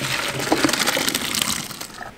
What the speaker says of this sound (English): take it, pour it in the strainer